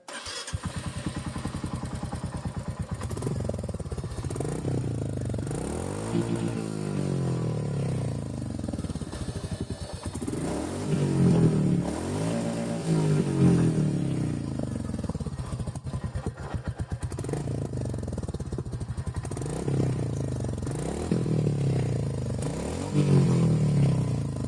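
Royal Enfield Meteor 350 motorcycle idling with a low, steady thump from its exhaust, blipped by several throttle revs that rise and fall at intervals, close and loud throughout with no talking.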